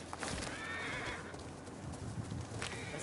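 A horse in a video game whinnies and its hooves clip-clop under a busy hiss of game sound and wind, fairly faint throughout.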